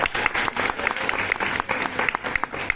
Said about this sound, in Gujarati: જોરદાર તાળીઓ થઈ